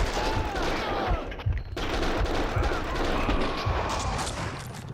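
Dense gunfire in the Max Payne 2 video game, rapid overlapping shots and automatic bursts crackling continuously and loudly, with a brief dip in the middle.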